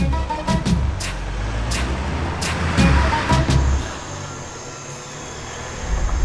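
A road vehicle drives past with a steady rumbling engine and tire noise, and a few sharp knocks and clatters along the way; the sound is fairly loud and close, then eases toward the end. There is no speech.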